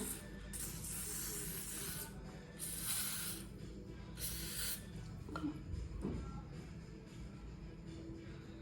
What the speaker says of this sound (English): I'm going in with this Glamour spray.